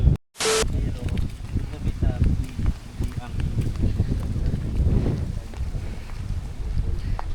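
Strong wind gusts roar and buffet the microphone on Boracay beach, a constant low rumble with people talking over it throughout.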